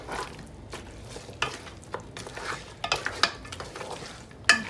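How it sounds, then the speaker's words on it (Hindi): Mutton karahi being stirred in a sizzling pan, with repeated scraping and clattering strokes of a utensil against the metal over a steady frying hiss, close by and irregular in rhythm. "इसको अच्छी तरह हिला लेंगे ताकि ये मिक्स हो जाए।"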